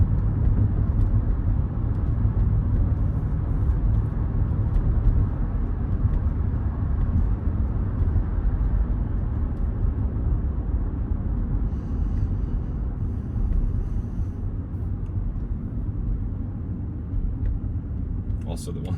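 Inside a 2013 Range Rover Sport Supercharged on the move, a steady low road and engine rumble fills the cabin, holding constant and loud throughout.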